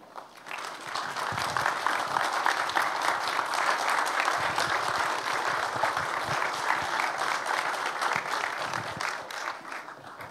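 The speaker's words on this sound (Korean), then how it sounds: "불편하지 않으신 분들은 다 같이 자리에서 일어나셔서 큰 박수로 맞이하겠습니다" A church congregation at a dedication and founding service stands and applauds to welcome a World Council of Churches general secretary to the stage, sustained, even clapping from a large crowd lasting around ten seconds.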